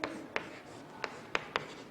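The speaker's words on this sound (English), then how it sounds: "For this, I will write here a paragraph." Pen or marker strokes from a handwritten paragraph, a few short separate scratches and taps spaced irregularly over a quiet background, close and faint.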